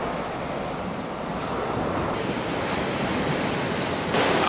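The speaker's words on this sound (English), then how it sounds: "It's going to be a bit windy, but I'm by the sea." Surf breaking on a Yorkshire coast beach with strong wind buffeting the microphone, a continuous loud roar of waves and gusts, swelling slightly toward the end, with no voices.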